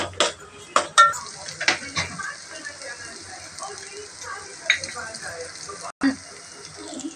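Mutton masala and Kashmiri red chilli powder fry in oil as a spoon stirs them. Sharp scraping clicks and pan knocks sound over a soft, continuous sizzle.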